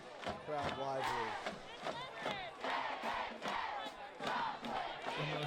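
A high school football crowd at a Joplin versus Marquette game cheers and yells in continuous swelling waves, loud and dense, with individual shouts standing out from the mass of voices.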